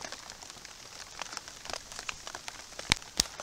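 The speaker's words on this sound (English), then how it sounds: "it's really gonna rain now." Rain patters onto leaves in an outdoor broccoli garden, scattered soft drops ticking irregularly over a quiet background, with a couple of sharper, louder hits near the end.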